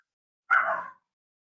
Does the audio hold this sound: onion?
no